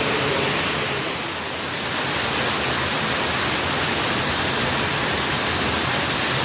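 Heavy rain pours down outdoors in a dense, even hiss that stays loud and unbroken throughout, with a brief slight dip early on and no voices.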